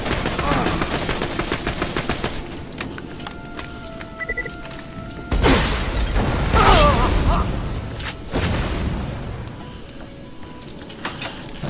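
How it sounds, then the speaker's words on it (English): Enemy gunfire in Borderlands 2 during Tiny Tina's Assault on Dragon Keep: rapid bursts of automatic shots and sharp single cracks, loud and near, with mechanical clanks and brief gaps between volleys. "He's shooting me."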